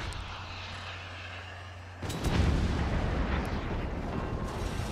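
A low hum gives way to a sudden heavy boom, followed by a sustained roaring rumble, like a rocket barrage launching in a game.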